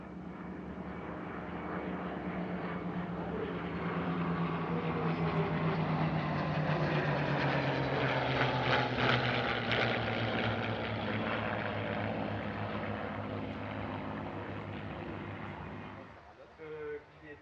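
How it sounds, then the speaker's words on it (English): Four warbird fighter aircraft come in together to land at an airshow, their engines a loud, continuous roar that swells and holds close by, then fades quickly near the end. "All four aircraft now approach from the left to conclude their display with a run and brake to land"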